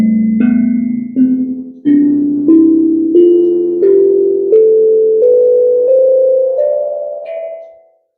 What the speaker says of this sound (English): you can probably hear the sound of the mallets striking the steel